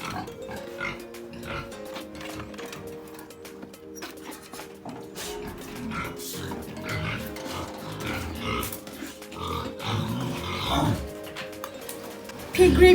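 Pigs grunting on a pig farm, a busy run of snorts and grunts from several animals mixed with clanking pen noise, fairly close and continuous throughout.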